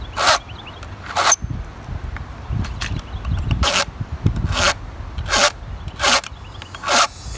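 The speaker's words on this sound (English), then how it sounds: "Whenever you sharpen your saw and you start getting powder," A hand file sharpens the chain of a Husqvarna 450 Rancher chainsaw in sharp, raspy strokes spaced about a second apart, close and fairly loud, with rubbing and handling noise in between.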